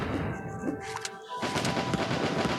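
Gunfire and explosions from the Stick Fight video game, a dense run of sharp shots and booms over a noisy mix, with a brief lull in the middle before the clatter resumes loud and continuous.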